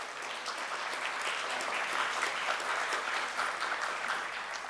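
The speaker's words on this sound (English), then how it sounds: "I'll request everyone to kindly stand up for them and give a huge round of applause." Audience applauding at a convocation ceremony of the Institute of Company Secretaries of India, a steady, dense roll of clapping from a large crowd that holds evenly throughout with no voices over it.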